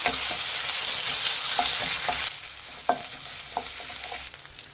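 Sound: green chillies and ginger garlic paste stirred and frying

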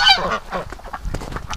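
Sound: geese honking

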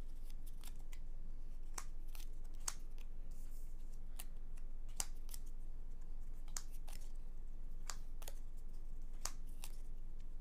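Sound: drawing and handling playing cards

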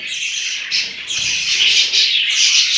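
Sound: budgerigars squawking in home breeding cage

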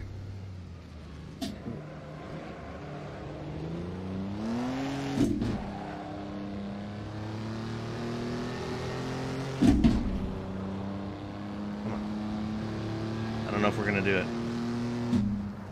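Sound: race car engine in the Assetto Corsa video game

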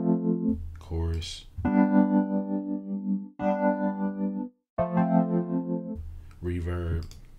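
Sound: chorus effect on electric piano

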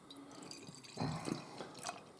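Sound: beer being poured into a glass

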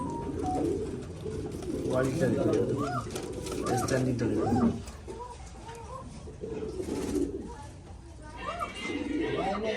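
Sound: fancy pigeons cooing

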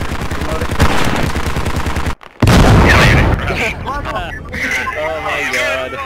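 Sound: gunfire in a video game

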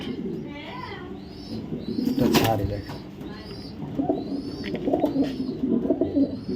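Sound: female pigeon cooing

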